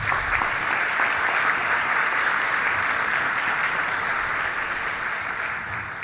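A church congregation applauds at a Sunday service, sustained dense clapping from many hands filling the room steadily for several seconds, with no voices on top.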